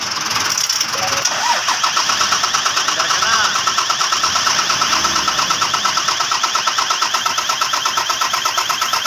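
A car with a weak battery is jump-started during a roadside rescue, its engine cranking in a fast, regular pulsing rhythm that stays loud and close throughout, with voices briefly heard near the start.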